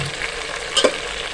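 Tomatoes fry in a pot for an aloo matar pulao, making a brief, even sizzle with one quick knock of a spoon partway through.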